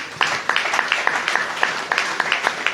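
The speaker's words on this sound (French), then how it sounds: "Je vous demanderai de l'applaudir." Audience applause at the Camp Flambeaux Ségou 2025 event, a steady wash of many hands clapping with sharp, evenly repeating peaks throughout, fairly close and loud, no voices.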